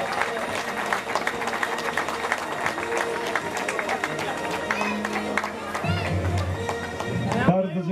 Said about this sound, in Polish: Puchary w górę i te brawa teraz są tylko dla was.